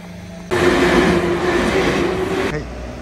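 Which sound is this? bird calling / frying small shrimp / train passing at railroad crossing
train passing at railroad crossing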